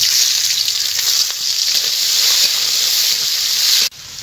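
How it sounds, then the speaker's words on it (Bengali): Chopped onion fries in hot oil along with whole spices for an egg korma, giving a loud, steady close sizzle and hiss that cuts off abruptly near the end. "পেঁয়াজ কুচিটা ভাজা ভাজা হয়ে গেছে"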